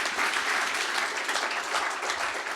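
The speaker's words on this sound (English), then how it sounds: "So quick round of applause for Alan before we take some questions." Audience applause for Alan at an onstage conversation with a founder, a steady wash of clapping from a crowd, loud and continuous with no talking over it.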